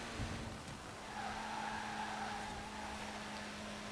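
Tires skid and slide in Forza Horizon 4 on Fortune Island, a sustained hissing screech over a steady engine drone that holds loud for the whole stretch with no talking.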